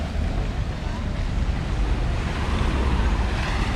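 A boat motors across the sea off El Nido, Philippines, with a constant engine drone, rushing wind buffeting the microphone and the wash of waves, loud and close.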